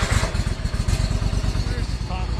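A Cub Cadet Pro Series mower engine fires up and runs at a steady, chugging idle nearby, its low rhythmic pulsing continuous throughout.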